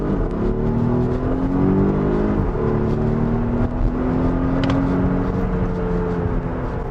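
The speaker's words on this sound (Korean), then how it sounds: "슈퍼차저와 터보차저를 함께 갖춘 가솔린 엔진, 그리고 전기 모터 있는 힘껏 힘을 뽑아내고 있고요" A Volvo S90 T8 hybrid, with a supercharged and turbocharged petrol engine plus an electric motor making 405 horsepower, accelerates hard, its engine note climbing steadily and loud from start to finish with no talk.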